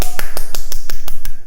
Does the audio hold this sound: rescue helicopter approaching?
no